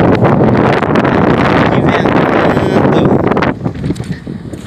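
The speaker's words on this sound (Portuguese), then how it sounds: "E tá ventando, hein? Que ventando." Strong wind buffets the microphone beside a truck on the BR-153 highway in Goiás, a loud, steady roar of rumbling gusts that eases slightly near the end.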